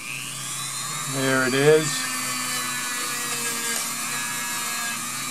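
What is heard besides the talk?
Dremel rotary tool cleaning model train wheels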